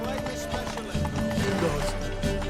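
Horse hooves clip-clopping at a run in The Witcher 3, a steady loud rhythmic thudding beneath a game music bed, with a voice briefly heard.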